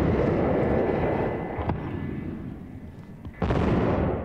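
A landmine-style explosion sound effect on a radio show rumbles as a dense, heavy low roar that fades, then a second loud burst hits sharply near the end, with no talking.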